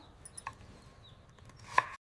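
A few soft knife chops through pirandai stems on a cutting board, quiet and close, with one sharper cut near the end.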